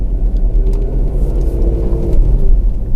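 A 2001 Audi B5 S4 cruises through a neighborhood, its engine giving a loud, steady rumbling drone with low whirring, heard from inside the car without talk.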